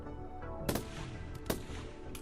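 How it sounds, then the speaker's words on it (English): Two faint, sharp gunshots from a colonist shooting a turret in the colony game RimWorld, well spaced apart over a quiet low background hum, followed by a softer third crack. "He's shooting the turret, that's okay."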